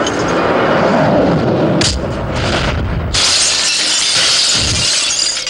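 A car window's glass is smashed in a Malayalam action scene: a loud, sustained crash of shattering glass, with a brief pause partway through before a second bright burst of splintering shards, all close and dominating.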